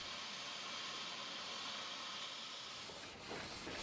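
A locomotive sits parked at a rail yard depot near a Nevada copper mining town, its idling engine giving a steady, fairly quiet broadband hiss and rumble that holds even throughout, with a slight dip near the end.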